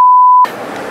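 A censor beep over speech: a loud, pure steady tone for under half a second that cuts off abruptly, followed by noisy, muffled background sound.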